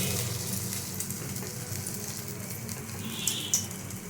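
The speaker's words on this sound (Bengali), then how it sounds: "এবার আমি তেলটা গরম হয়ে গেছে ছেড়ে দেবো" Dough pieces dropped into hot oil, a steady, even sizzle and crackle of frying that holds throughout, with a couple of brief sharper pops near the end.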